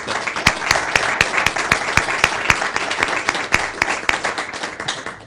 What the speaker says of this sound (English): Thanks very much, Dale, and round of applause.